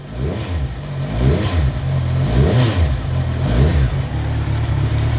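A 2019 Kawasaki Z1000 SX fitted with an Akrapovic exhaust is revved repeatedly, each throttle blip rising and falling over a deep burbling idle, loud and close.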